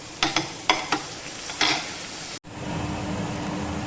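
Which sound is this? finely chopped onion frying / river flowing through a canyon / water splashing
finely chopped onion frying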